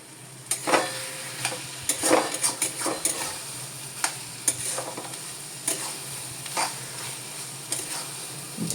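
Food frying in a pan on a home stove, stirred steadily: a constant soft sizzle underlies repeated scraping and clinking strokes of a spoon against the pan at an uneven rhythm, close and clear with no speech.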